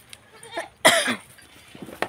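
One harsh, fairly loud cough bursts out midway, with quieter rustles and a faint clink around it in an otherwise quiet setting.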